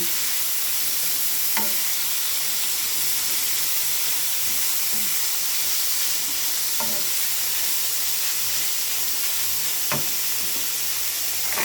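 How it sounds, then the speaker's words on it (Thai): Minced pork stir-fried in a hot pan for a basil and long-bean dish, a loud dense hissing sizzle running continuously with occasional sharp spatula knocks against the pan. "เขาก็เลยต้อง ผัดหมูก่อน"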